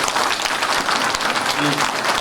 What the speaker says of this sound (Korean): 우리 염정현 의장님께 특별히 감사의 박수를 좀 보내주시면 고맙겠습니다.